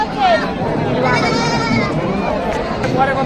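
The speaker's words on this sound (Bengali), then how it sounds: "এতক্ষণ যে ছাগল দেখালাম জিয়া ভাইয়ের ছাগল" Goats bleat several times at a livestock market in Tebaria, Natore, their wavering cries rising over steady background chatter from people nearby.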